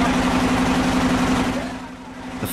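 A faulty boat engine drones and throbs steadily low close by, holding a constant pitch before easing slightly quieter near the end, in remote Myanmar.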